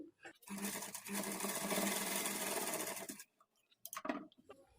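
A sewing machine stitches a blouse sleeve in one close, fast whirring run of about three seconds, then stops. A few light clicks and handling noises follow, with a voice faintly present.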